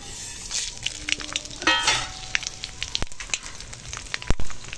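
Mustard seeds, dried chilli and bay leaf crackling in hot oil for tempering, close sputtering pops and sharp spits over a frying hiss.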